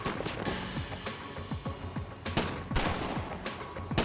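Gunfire during a shootout involving armored-van guards, with repeated sharp shots and bursts spread over a few seconds, fairly loud and echoing against background noise.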